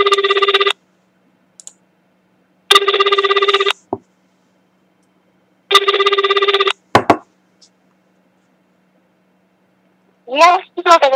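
A telephone rings over speakerphone while calling a sake brewery, giving three loud, evenly spaced electronic ring bursts with long silences between them, followed by short sounds of a voice.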